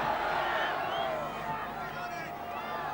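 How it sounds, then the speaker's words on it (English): A big football crowd roars in support of York City, a continuous loud swell of cheering and hubbub with a commentator talking over it. "Big crowd getting behind York City now."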